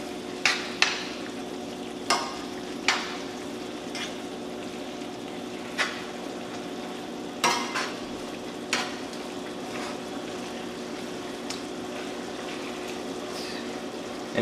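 Cottage pie meat mixture sizzles steadily in a pan on the stove while a spoon stirs it, leaving scattered scraping clicks every second or two over the continuous frying hiss.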